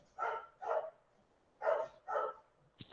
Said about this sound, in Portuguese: tem uns cachorros latindo, eu não consigo ouvir vocês.